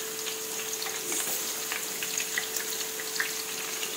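Shallots frying naturally in oil without batter, a steady close crackling sizzle with scattered small pops and a faint constant tone underneath, no talking.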